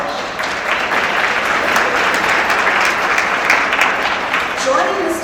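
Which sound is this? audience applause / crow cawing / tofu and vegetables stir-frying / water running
audience applause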